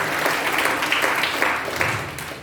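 Church congregation clapping loudly during a Filipino worship sermon, a dense burst of many hands that swells and then slowly tapers, with no voices over it.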